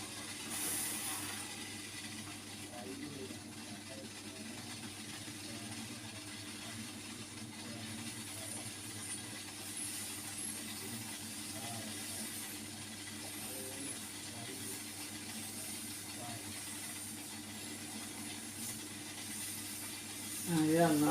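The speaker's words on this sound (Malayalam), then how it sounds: "ഇപ്പോൾ നമ്മുടെ പുട്ട് ആവിയൊക്കെ വന്ന് തുടങ്ങിയിട്ടുണ്ട്" Steam hissing steadily from a puttu steamer on the stove as the puttu starts steaming, a continuous soft broadband hiss with a faint hum underneath and a brief louder burst near the end.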